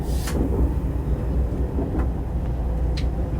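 Steady low rumble of a train running, heard from inside a passenger carriage, continuous and fairly loud with a few faint clicks from the track, and no talking.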